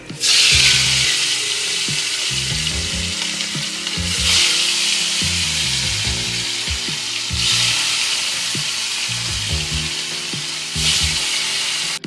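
Hilsa fish pieces frying in hot, lightly smoking oil give a steady, loud sizzle throughout, with recurring surges of crackle and low knocks of a pan or spatula.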